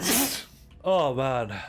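A sneeze bursts out at the start, sharp and noisy, followed by a short pause and then a sung or drawn-out voiced sound, with a person speaking afterward.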